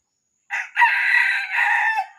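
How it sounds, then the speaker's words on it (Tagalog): A red junglefowl roundhead rooster crows once, close and loud, a drawn-out call with a short opening note and a long sustained middle, standing alone against silence. "Di nakakasawang pakinggan yung tilaok niya."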